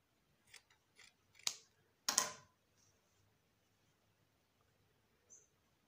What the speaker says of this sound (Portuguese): Venho sobrepondo e cortando.